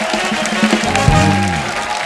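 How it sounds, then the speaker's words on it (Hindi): Studio audience on a television comedy show gives loud, sustained applause for the guests, with a musical tone and a brief vocal sound rising under the dense clapping. "एक बार जोरदार तालियां हो जाए हमारे मेहमानों के लिए।"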